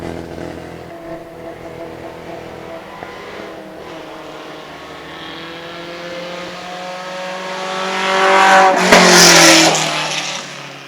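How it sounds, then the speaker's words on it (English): Vintage Italian race cars, among them an Abarth Scorpion and Alfa Romeo Giulia coupes, race at a vintage grand prix; engines drone and climb in pitch, building to a loud close pass near the end, with no talk. "Mark Mailing in that lime green Abbas Scorpion."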